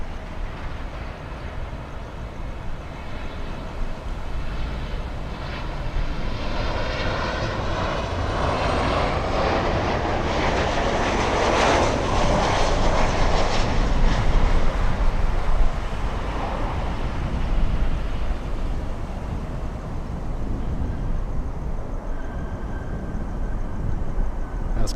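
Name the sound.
Boeing 767 freighter on final approach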